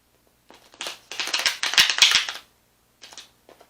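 A deck of tarot cards is shuffled by hand in two bursts of papery riffling and flicking, the first longer and louder, then a shorter, fainter one after a brief pause, close by with no talking.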